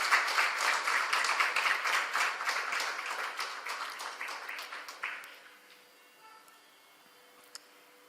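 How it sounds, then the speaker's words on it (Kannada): Audience applause at a Carnatic music concert, a dense burst of clapping from a seated crowd that tapers off after about five seconds into a quiet hall with one faint tap near the end. "ಜೋರಾಗಿ ಬರಲಿ ಚಪ್ಪಾಳೆ, ಪರವಾಗಿಲ್ಲ."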